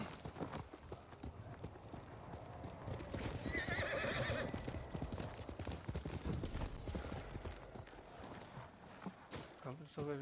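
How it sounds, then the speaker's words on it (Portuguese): A horse in the Ghost of Tsushima video game clip-clops along with steady hoofbeats and lets out a neigh partway through, set under game ambience and someone talking. "Olha o cavalo do cara"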